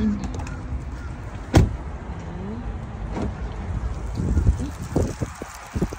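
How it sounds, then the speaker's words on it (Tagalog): Gusty wind buffets the microphone with a steady low rumble, a few thumps and knocks rising above it, and faint talk in the background. "Sobrang hangin ngayon. Oh my God! So windy!"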